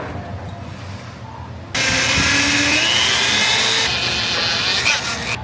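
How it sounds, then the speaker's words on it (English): A power drill bores holes into the steel frame of a Ford Super Duty truck, starting abruptly after a quiet moment and whining loud and steady with shifting pitch as the bit bites through the metal. "and start drilling."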